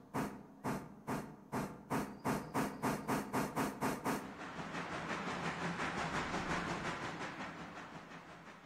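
Steam locomotive reversing in the Railroader game: a run of about fifteen sharp, evenly spaced exhaust chuffs that speed up slightly, then give way to a steady loud hiss of released steam, close and alone.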